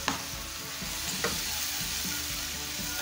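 Curry seasoning with ginger, garlic, sweet pepper, tomatoes and onions sizzling in hot oil in a pan, a steady close crackle punctuated by a few utensil taps, with no talk.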